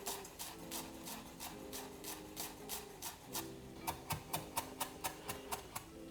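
A knife chops through a bundle of fresh herbs on a cutting board in a home kitchen, a steady run of crisp taps growing sharper and more regular toward the end over low background music.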